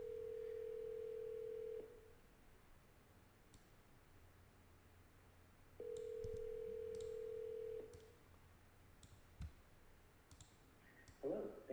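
Telephone call tones: two long steady ringback-style tones, each lasting about two seconds, separated by a pause, followed by faint clicks and a brief burst of handling noise over a quiet line.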